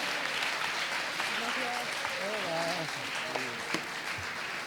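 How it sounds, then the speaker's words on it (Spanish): Event crowd applauding at a gala, a steady wash of clapping with voices and a few tonal calls rising through it. "Un aplauso, por favor, para Mamen"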